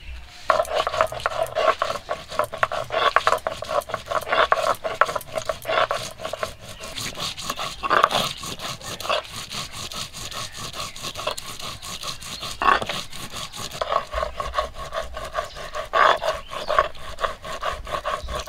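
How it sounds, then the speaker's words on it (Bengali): Dried red chillies ground by hand on a stone slab with a grinding stone in a village kitchen, a rhythmic rough scraping and rubbing of stone on stone going back and forth, close and steady. "সবশেষে বেটে নেব শুকনো লঙ্কা।"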